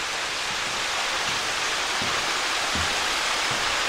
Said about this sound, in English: Yeah, the water's flowing.